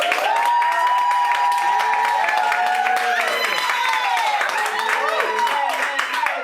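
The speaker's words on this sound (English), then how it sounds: "Don't forget to clap." A live studio audience at the Nelson Manor claps and cheers steadily throughout, a dense crackle of hands mixed with loud voices and tonal singing or music running over the top.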